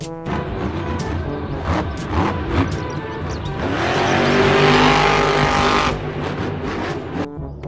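Monster truck engine roaring and revving loudly, with a swelling passage as it accelerates, set among sharp bangs and tire noise; no one speaks.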